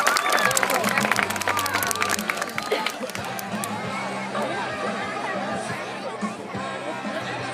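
An outdoor audience at a police K9 demonstration in a park applauds, with crowd chatter and cheers mixed in; the clapping is loudest at first and then thins under ongoing talk and crowd murmur.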